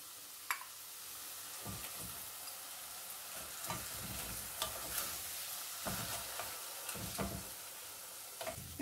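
Brinjal fries with red chili and coriander powder in a pan for baingan bharta, a quiet sizzle broken by repeated scraping stirs and clinks, with no voices.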